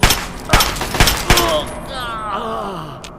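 Assault rifle fire in the Fallout 3 video game rings out as four sharp, loud shots in quick succession, followed by a groaning, wavering voice and a final faint click.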